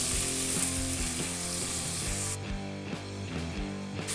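Onion and garlic sauté in hot olive oil in a pan, a continuous close sizzle with a softer hiss over rhythmic background tones, no talk.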